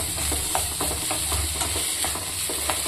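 Onion and garlic fry in a hot pan with oil, giving a steady, even sizzling hiss, broken by a few light stirring ticks and scrapes.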